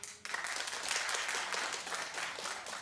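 A studio audience at a talk show breaks into loud, dense clapping that starts suddenly and holds steady for a few seconds, with no voices over it.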